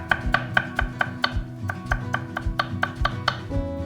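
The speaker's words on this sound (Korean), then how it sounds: "이제 나머지 더덕 마저 썰을게요." A knife slices deodeok (bellflower root) on a cutting board in a steady run of about fifteen crisp, evenly spaced strokes, close and clear with no talk.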